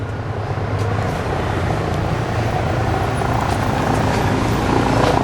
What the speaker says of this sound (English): Hark! I hear a helicopter.